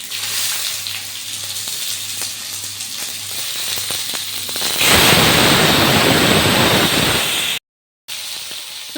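Fennel, cumin, cinnamon, bay leaf and chopped onion hit hot oil halfway through, setting off a sudden loud, steady sizzle that continues until a brief cutout near the end.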